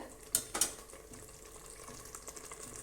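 Ground tomato paste sautés quietly in a pan, with a soft continuous sizzle and two sharp clinks of a utensil against the pan early on.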